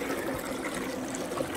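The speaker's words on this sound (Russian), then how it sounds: "Даже вон запустили воду." Water running steadily into an Abyssinian well borehole during drilling, a soft continuous trickling stream, faint and fairly close, with no voices.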